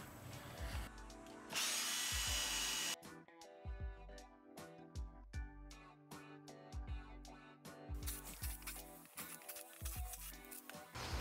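A power drill boring holes in an aluminum plate for mounting electric tractor components, with short repeated bursts of whining drilling between pauses and a longer loud burst early on.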